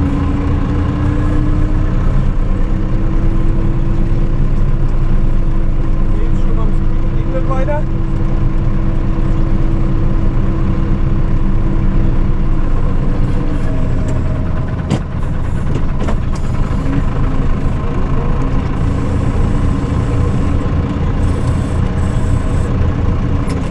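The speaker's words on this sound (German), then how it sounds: "Zweitens, das Mähwerk, das frisst sich hier, weil es halt alles so lang ist." An IHC tractor drives a mower through long meadow grass, its steady low engine drone straining continuously and close up with a constant rumbling churn.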